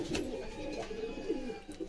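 Caged pigeons of several breeds, frightened, coo in soft repeated throaty bursts close to the listener, a steady murmur without talk.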